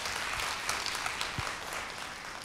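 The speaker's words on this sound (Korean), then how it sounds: "오늘 최고의 무대 보내주신 두 분께 큰 박수 부탁드려요" Applause from a studio audience for two performers on a televised singing contest, a steady wash of many hands clapping at moderate volume with a few low thumps mixed in.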